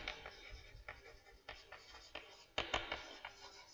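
Pen or marker scratching out a quadratic equations maths example in a complex numbers lesson, faint close strokes in short irregular bursts with no talking.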